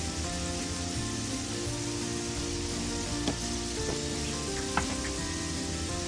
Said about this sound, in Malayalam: ഒരു പാനിൽ സൺഫ്ലവർ ഓയിൽ ഒഴിച്ച് ഞാനിത് ഫ്രൈ ചെയ്യാൻ ഇട്ടിട്ടുണ്ട്